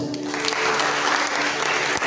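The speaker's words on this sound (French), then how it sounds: "on donne des acclamations." A crowd applauds steadily, a dense wash of clapping that holds throughout at moderate loudness.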